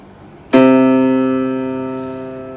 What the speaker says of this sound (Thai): ตัวโดที่เป็นเสียงต่ำนะคะ ของมือซ้ายนะคะ เสียงนี้ค่ะ